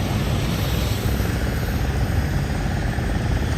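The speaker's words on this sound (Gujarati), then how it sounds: "આ મોટો જેટ છે, મોટી ફ્લાઇટ છે." A large jet airliner at Jaipur airport produces a steady, loud, broadband engine roar that stays constant throughout, with no other sounds standing out.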